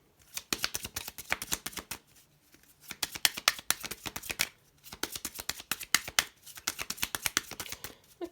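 Tarot cards being shuffled in several quick riffling bursts, crisp and close, separated by short pauses.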